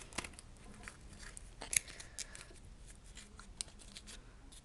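Scissors snip carefully through a paper cocarde in short, quiet cuts, with faint paper rustling between the closely spaced snips.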